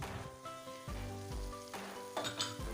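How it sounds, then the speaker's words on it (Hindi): Garam masala, dried coriander and red chili powder roast in a pan for a white beans dish, sizzling steadily under a loud low rumble and occasional stirring scrapes, close by, with no one speaking. "अब हम तमाम मसालों को अच्छी तरह भून लेंगे"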